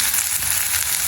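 Onions and chili frying in a pan, a dense and steady close-up sizzle with fine crackling throughout.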